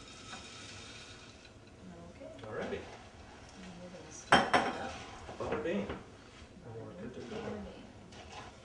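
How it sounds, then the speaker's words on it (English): Turkey stuffing stirred in a pot, with spoon scrapes and clanks against the metal that grow louder in the middle, heard under people talking. "we're going to stir that up"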